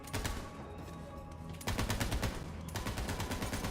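An unusual video-game gun fires rapidly in dense, rattling automatic bursts, loud and continuous. The tone shifts between stretches of the firing, and no one speaks over it.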